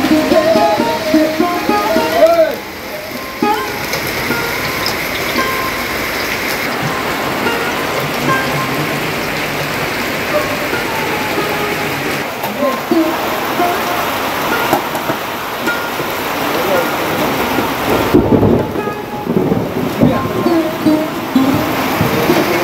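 Heavy rain pours steadily in a village in Narayanganj, Bangladesh, a dense, loud, continuous hiss close by with brief swells, and faint voices now and then underneath.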